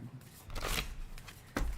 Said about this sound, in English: My cards don't want to shuffle.